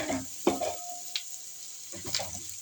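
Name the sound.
curry leaves sautéing in a pan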